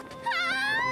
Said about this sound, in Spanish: Eres muy buen perro.